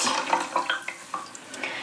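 Water is squeezed out of wet yarn skeins, giving a close, wet trickling and dripping with small splashy bursts as the water runs off, and no talking.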